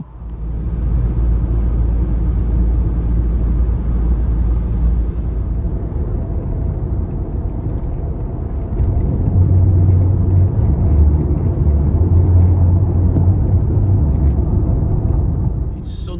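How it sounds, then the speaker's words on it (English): Road traffic makes a continuous low rumble of passing vehicles that swells and grows heavier midway, steady and fairly loud throughout. "Traffic is getting unmanageable."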